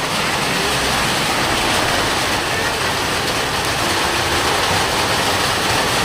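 Heavy rain pours steadily onto a house, a dense, continuous hiss and roar at close range that never lets up, with a faint voice occasionally underneath.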